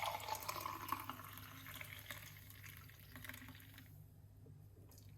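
Liquid poured from one container into another while making a homemade weight-loss drink, a steady wet trickle and splash with faint drips that thins out and stops toward the end, no voices.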